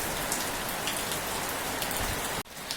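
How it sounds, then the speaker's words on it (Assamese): Steady rain falls on a hot day, a dense, even patter on surfaces that continues without a break until it cuts off abruptly near the end. "চাওকচোন বৰষুণ দি আছে"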